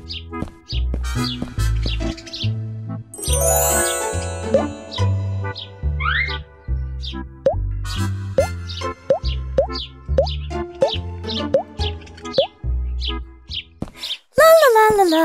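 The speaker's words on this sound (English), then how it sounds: "On a beautiful sunny day, the birds were chirping and Rapunzel went out to the countryside" Cartoon birds chirping on a sunny countryside day: bright, quick upward tweets and chirps scattered over a bouncy plucked musical tune, ending with a rising warbling call.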